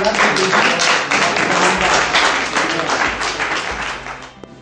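Sustained applause from an audience at a raw-food gathering, welcoming Reinaldo Cuadros: dense, loud, steady clapping that holds for several seconds and tapers slightly toward the end.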